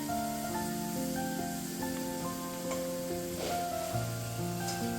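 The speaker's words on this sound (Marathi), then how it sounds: "आता बटाटे तेलामध्ये परतायला टाकलेले आहे" Potato pieces fry in hot oil in a pan over a gas flame, with a steady close sizzle beneath prominent tonal background music.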